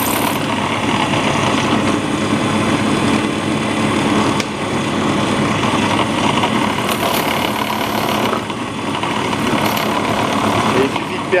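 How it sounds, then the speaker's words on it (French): Power drill boring a hole with a 4 mm bit for a switch while building an 80 W diving light: a loud, steady whirring drone with slight variations that runs without pause. "Et il suffit de percer la longueur nécessaire pour permettre à l'interrupteur de pénétrer à l'intérieur"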